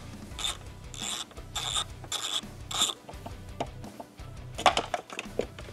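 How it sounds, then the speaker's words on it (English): A ratchet with a 10 mm socket loosens a bolt on a 2020-2025 Subaru Outback Wilderness, with repeated rasping ratchet clicks in short bursts and a few sharper metallic ticks near the end. "now we need a 10 millimeter socket and a ratchet"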